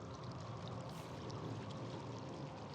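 Water trickling and pouring into a creek in the video game Rue Valley, a soft, continuous running flow that stays faint and even throughout.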